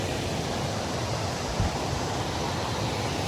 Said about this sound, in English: And then look at this waterfall. This comes down through there.